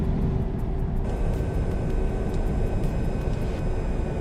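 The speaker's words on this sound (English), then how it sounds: "the retarder is on this button here, and you can hear it also" A heavy truck in American Truck Simulator with its engine retarder engaged for braking, giving a loud, steady, low rumbling drone that holds without a break and has no talk over it.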